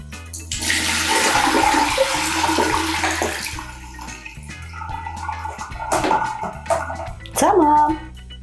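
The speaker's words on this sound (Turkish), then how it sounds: "İlk yapacağımız şey şu havuz suyunu bir boşaltalım." Water drains and splashes out of a small toy swimming pool, a loud gushing rush that fades into trickles and drips, with a brief burst of sloshing near the end.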